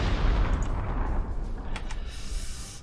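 Artillery fire in Panzer Corps 2: dense, booming shots blend into a continuous heavy roar, with a few sharper reports near the end.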